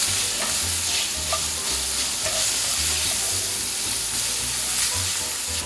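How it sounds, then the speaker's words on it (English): Freshly chopped bacon frying in a pan for mac and cheese, a steady close sizzle with stirring scrapes running throughout, no voices. "Freshly chopped bacon."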